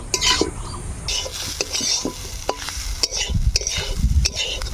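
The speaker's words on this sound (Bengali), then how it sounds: "এই সময় আমরা দিয়ে দিব হচ্ছে নারকেল এইটা আমরা বেশ খানিক্ষণ ধরে সবগুলো নাড়ি চাড়ি নিব" Grated coconut is being stirred in a hot pan, close and fairly loud. A metal spatula scrapes and clatters against the pan over a frying hiss, with rhythmic stirring strokes and a few heavier knocks near the end.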